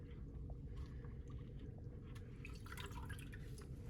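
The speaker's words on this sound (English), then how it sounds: "dip the roll and the reinforcement strip in water, squeeze it 2 to 3 times" Water drips and squishes from a roll of casting tape and a reinforcement strip as they are squeezed after being dipped for a splint. The drips are faint and close, with a few brief splats over a low background hum.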